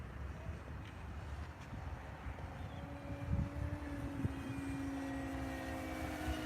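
A model airplane with FPV flying low over a runway at about 30 feet, a steady engine drone with a sustained tone under wind noise at an outdoor flying field.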